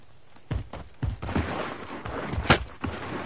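Video game gunfire: repeated sharp shots and bursts in quick succession, some heavy and booming, rising over a low background rumble.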